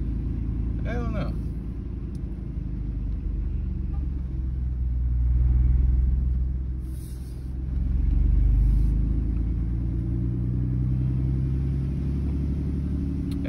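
A 2007 Dodge Dakota truck drives along with a low, steady engine rumble that swells twice as it accelerates, while people talk inside the cab over the noise.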